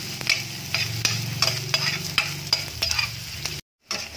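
Onion and garlic sizzle together in a frying pan while a spoon stirs them, giving a steady hiss broken by regular scraping strokes; the sound cuts out briefly near the end, then the sizzle returns.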